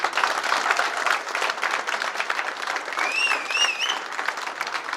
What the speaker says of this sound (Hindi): एक बार शानदार तालियां होनी चाहिए